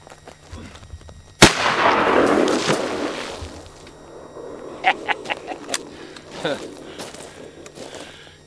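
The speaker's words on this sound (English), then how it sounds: "shoot it with both barrels at the same time with the mini buckshot" A shotgun fires both barrels at once with mini buckshot shells: a single sharp, loud blast followed by a short rumbling tail, then footsteps and light handling clicks as someone talks.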